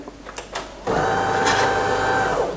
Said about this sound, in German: die Kaffeemaschine zieht jetzt auch ihre 1400 Watt beim Hochfahren